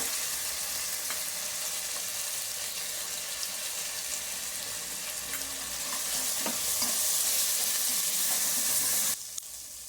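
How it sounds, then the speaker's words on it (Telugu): Ginger garlic paste frying with light-brown onions in a pan for a chicken gravy: a steady, loud sizzle with occasional stirring scrapes near the end, and no talking. "ఒక 2 minutes అల్లం paste, ginger garlic paste fry అయిన తర్వాత"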